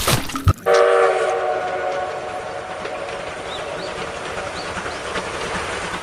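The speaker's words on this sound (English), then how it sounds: "Wahai, toy train Thomas." A toy Thomas train plays a recorded train horn and rail clatter: a sharp click, then a sustained sounding tone that fades into a steady rumbling run, loud and close, with no talk.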